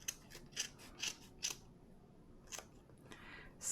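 Scissors snipping through wound yarn on a pom pom maker, a series of short, crisp close-up cuts in an uneven rhythm, fairly quiet with pauses between them.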